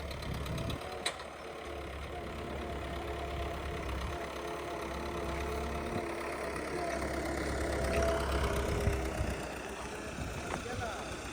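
A tractor engine runs steadily in a farm field while soil is piled onto field bunds, a low continuous rumble with faint knocking, near and fairly constant, with a couple of sharp clunks.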